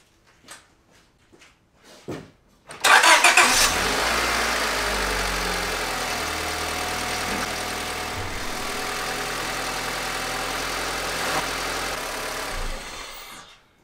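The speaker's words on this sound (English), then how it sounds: "I'm going to go ahead and crank over the vehicle, start it up" A car engine cranks through a few short starter bursts, then catches and settles into a steady, loud idle that runs close by for about ten seconds before cutting off.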